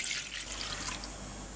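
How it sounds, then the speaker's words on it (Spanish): Hot water poured into a bowl, a brief, steady, close splashing trickle while making a vegan chocolate sponge cake. "vamos a colocar en otro bol el agua que está caliente"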